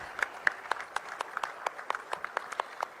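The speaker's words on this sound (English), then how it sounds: "let's give them a huge round of applause" Light applause at a trophy showcase for the Indian Oil Durand Cup football tournament, a sparse, faint scattering of individual claps from a small group, unevenly spaced over a quiet background.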